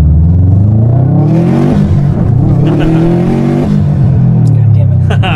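A turbocharged Subaru STI tuned past 300 wheel horsepower pulls hard from first gear, its engine note climbing loud and steady as revs build, with excited voices riding over the roar.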